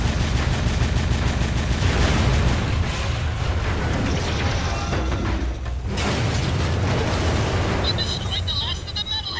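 Eggs are blown apart in an explosion in the game Jak 2, a loud, sustained roar of blasts and rapid gunfire-like bursts that fades slightly toward the end, with people talking over it.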